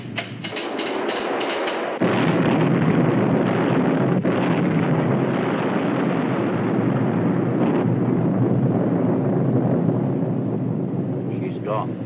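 A torpedo strikes a ship in a war film and a massive explosion erupts, a sustained roaring, rumbling blast that fills the whole stretch loudly after an abrupt surge at about 2 seconds.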